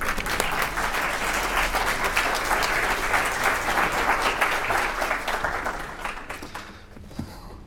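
An audience in Birmingham applauds to welcome a speaker, with sustained, dense clapping from a large crowd that holds steady for several seconds and then thins out toward the end.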